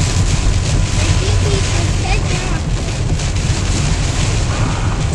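Strong wind from Tropical Storm Irene in the Adirondacks buffets the microphone in a continuous loud roar, gusting steadily with a low rumble underneath.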